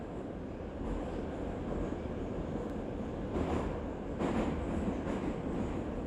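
A crowded subway train riding along, a steady rumbling roar of wheels on rails with faint rattling and a few brief metallic squeals, continuous and moderately loud, with no speech.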